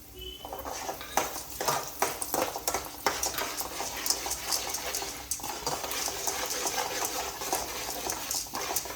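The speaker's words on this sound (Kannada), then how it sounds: "ಇವಾಗ ಉದ್ದಿನ ಬೇಳೆ, ಹೆಸರು ಬೇಳೆ ಎರಡು ಹಾಕಿ." Urad dal and moong dal hit a hot pan and are stirred while frying, giving a busy scraping, crackling clatter of a utensil against the pan in irregular strokes, close and steady throughout.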